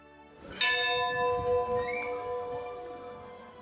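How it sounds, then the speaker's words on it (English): A convent bell, once rung to call gardeners in from the garden, gives a single strong strike whose bright metallic tone hums on and slowly fades away. "The bell that would have been traditionally used to call in the gardeners from the garden"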